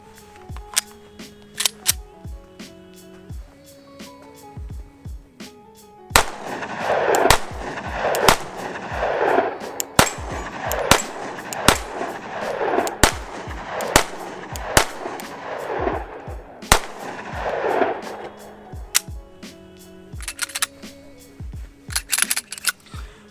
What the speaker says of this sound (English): let's shoot the 365 if I can find my magazine